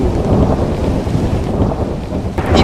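A heavy thunderstorm with steady loud rain pouring down and deep rolling thunder rumbling throughout, continuous and close, with no voices.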